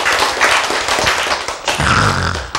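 An audience breaks into applause, a dense, loud wash of many hands clapping together for a few seconds.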